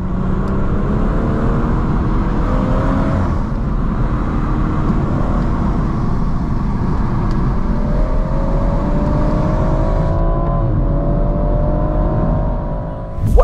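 A BMW M140i Shadow Edition accelerates hard at night, its engine note climbing steadily through gears in a loud, continuous drone from inside the car with no talk.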